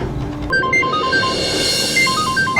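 A phone's melodic ringtone for an incoming call, loud and near, playing a repeating pattern of short electronic tones for a couple of seconds with a low background hum, no voices.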